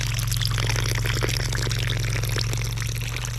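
Dark water pours from a cut trunk of a large maple tree, a steady loud rushing gush with a low engine hum beneath it throughout.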